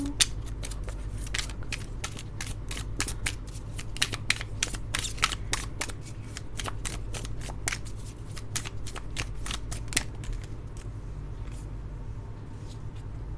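A deck of tarot cards is shuffled near the microphone in quick riffling bursts and sharp flicks, repeating steadily over a low background hum, with no voices.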